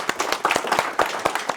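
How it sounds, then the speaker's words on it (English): Audience at a talk on building trust by celebrating mistakes, clapping in a brief round of applause, quick, fairly regular claps from a modest crowd, close and moderately loud. "So I think it deserves a round of applause."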